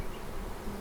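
Dense, steady buzzing of many bees around a Langstroth beehive, close and continuous with no pauses or voices.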